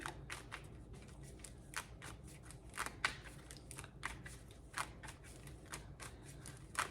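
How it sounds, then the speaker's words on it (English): Tarot cards being shuffled by hand in a quiet room, a steady run of crisp riffling flicks and soft slaps repeating through the whole stretch with no talking. "I'm already shuffling."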